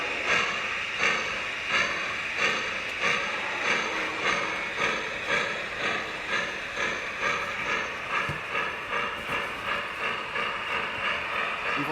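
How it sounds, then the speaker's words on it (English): A Lionel VisionLine O scale Niagara model steam locomotive chuffs in a steady, evenly spaced rhythm under a continuous hiss of steam, close and fairly loud, with about a dozen regular beats. "As we get rolling and pick up steam here, you'll see those safety valves shut off in just a second."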